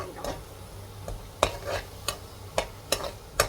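Mint rice ingredients stirred and fried in a pan: a low sizzle under a series of sharp, irregular scraping strokes of a spoon against the pan, close and clear with no talk.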